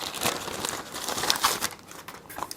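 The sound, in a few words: opening a knife package with a utility knife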